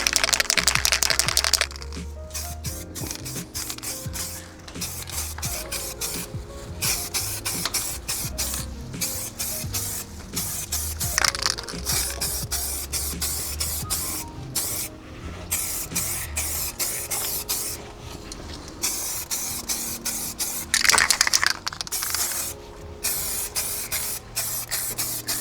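Red paint sprayed onto the brake calipers of a Tesla Model S: repeated close, loud hissing spray bursts run steadily throughout, with brief pauses between passes.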